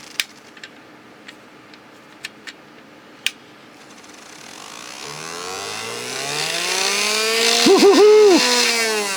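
A few sharp clicks and ticks come first, then a repaired, freshly lubricated small motor spins up into a loud whine that climbs in pitch and holds steady, with a brief wavering near the end.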